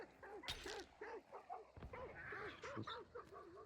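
Dogs barking in the Hunt: Showdown 1896 video game, a run of repeated yips and barks at moderate distance with some clanking game sounds mixed in.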